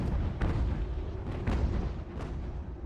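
Cannon and musket fire in the Ultimate General: American Revolution game, with several sharp booming shots over a dense, continuous rumble of distant battle noise and no talk.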